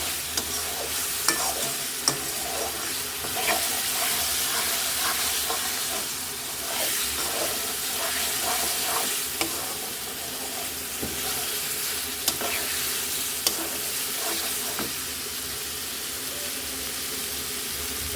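Chickpea lentils fry in fat with chili in a pan, giving a continuous loud sizzle and hiss, with occasional scraping clicks from stirring throughout.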